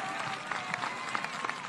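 Crowd at a political rally for presidential candidate José Antonio Kast in the Bío Bío region, giving steady applause with scattered claps, heard at a moderate distance.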